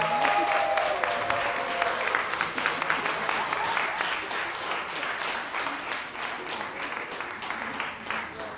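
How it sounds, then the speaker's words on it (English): Sustained applause from a ceremony audience greeting an award recipient at a community college students' award ceremony in Montego Bay, steady dense clapping filling the room throughout with no speech. "please help me by giving a rousing round of applause"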